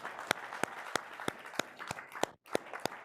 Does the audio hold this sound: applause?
yes